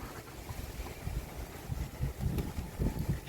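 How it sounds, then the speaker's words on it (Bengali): Wind gusting across a rooftop garden, a steady low rush buffeting the microphone with rising and falling surges, fairly close and continuous throughout. "বাতাসের শব্দটাও বেশ ভালো লাগে আমার কাছে এত সুন্দর ঝিরঝিরে বাতাস"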